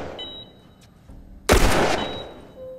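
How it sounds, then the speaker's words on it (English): A single loud, close gunshot in a post-apocalyptic video game bursts out after quiet background sound, followed by a brief fading echo. "there is no way around this guy except by shooting him dead"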